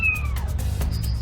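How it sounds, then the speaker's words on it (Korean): A single high meow from a kitten trapped behind a wall, sliding downward in pitch, followed by faint scratchy noises. "가까이 다가가니 고양이 울음소리가 더 선명하게 들리는데요."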